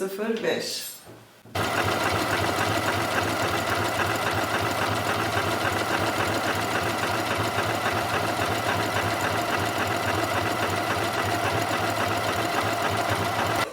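A Janome MC 6700P electronic sewing machine running an elastic stitch, its steady fast mechanical whir starting abruptly after a brief pause and continuing loud and even throughout.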